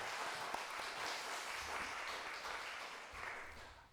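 A church congregation applauding in praise to welcome a pastor to the pulpit. The clapping is soft, distant and steady, blending into a continuous wash for several seconds.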